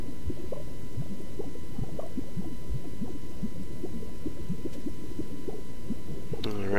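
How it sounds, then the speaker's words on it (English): Low, thick bubbling and popping of lava in the video game Treasure of the Rudras rolls on continuously, dense and murky like molten liquid, ending with a brief brighter burst. "just the sound of bubbling lava."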